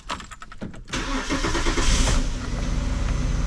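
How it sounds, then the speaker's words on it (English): A 2005 Saturn L300 being started: a brief cranking stutter, then the engine catches and settles into a steady, loud idle close by. "So let's see if we can get it started now."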